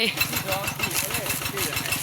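A tractor engine chugs steadily up close with a rhythmic, throbbing beat, loud and continuous, with a voice faintly mixed in.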